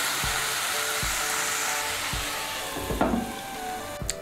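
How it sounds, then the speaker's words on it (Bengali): Grated radish for a vegetarian Bengali chorchori fries in a hot pan with a steady close sizzle, broken by regular scraping strokes of a spatula about once a second. "এখন আঁচটা বাড়িয়ে দেব, বাড়িয়ে দিয়ে মূলোটাকে আমি একটু ভেজে নেব"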